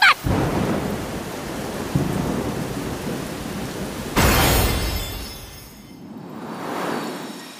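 A water-and-lightning thunderstorm spell in the Mushoku Tensei anime game unleashes heavy rain and rolling thunder, with a sharp crack midway followed by rumbling that swells and fades, loud and close.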